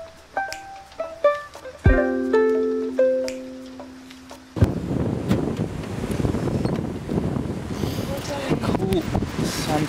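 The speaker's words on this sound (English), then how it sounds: "it's super windy outside" Strong gusty wind buffets the microphone outdoors at sunset near Stellenbosch, a dense, roaring rush that takes over halfway through and stays loud, following a quieter stretch of brief tonal sounds.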